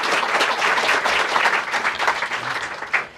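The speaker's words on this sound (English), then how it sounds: "You have the largest round of applause I've ever heard in this room." A crowd of reporters applauds in the White House briefing room for a retiring photojournalist, loud dense clapping that thins slightly toward the end.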